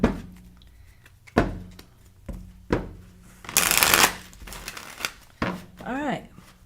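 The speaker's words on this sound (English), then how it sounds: "This is not the easiest deck to shuffle," A deck of tarot cards being shuffled by hand, with several separate bursts of riffling and card slaps, one long papery flurry in the middle, and a voice speaking briefly near the end.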